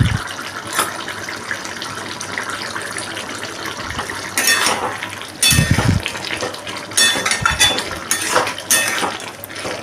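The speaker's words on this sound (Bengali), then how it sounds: "আবারও এটাকে আমি ভালো করে মিশিয়ে নিচ্ছি।" Vegetarian yam and potato curry stirred in a pan, with loud metal spoon scrapes and clanks against the pan in uneven bursts over a steady watery bubbling, no voices.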